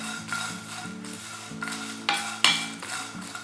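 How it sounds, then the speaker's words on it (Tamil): Whole spices for tea masala stirred as they dry-roast in a pan, a steady close scraping and rustling with a few sharper clinks of the utensil against the metal. "ஸோ அதனால் அப்பப்போ கிளறிக்கிட்டே இருப்பேன் நான்."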